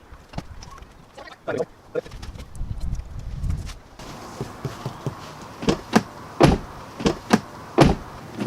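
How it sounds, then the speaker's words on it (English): A front door fitted with acoustic treatment is opened and closed repeatedly, giving a series of dull, muffled thuds and latch clicks at close range, spaced about a second apart, with some handling noise before them. "I hope the difference you hear there in the sound of the doors is noticeable on the microphone"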